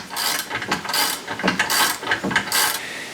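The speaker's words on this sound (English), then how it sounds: "Last couple turns on here sucks that screw head down into the metal." Hand ratchet driving a screw into a metal table on a new 2x60 belt grinder, close rapid clicking strokes in short repeated bursts, with no voice over it.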